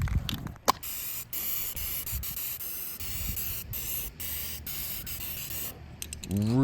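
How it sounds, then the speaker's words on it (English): An aerosol can sprays paint onto an old television that has been converted into a fish tank. Long, steady hissing bursts are broken by short pauses and the rattle of the can being shaken, all heard close up. "So we're good to move on to spraying more paint."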